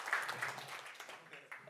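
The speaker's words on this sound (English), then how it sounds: "And please, everyone, applaud." An audience claps for panelists taking the stage at a conference on sovereignty and security: a brief, faint patter of applause with no voices over it.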